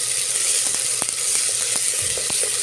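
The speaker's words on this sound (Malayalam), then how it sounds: "ഉള്ളിയും പച്ചമുളകും എല്ലാം നല്ലവണ്ണം വഴറ്റിയെടുക്കുക" Onions and green chillies hiss steadily as they sauté in ghee and coconut oil for a camel meat curry. A spoon scrapes and taps the pan now and then. The sound is close and loud, with no talking.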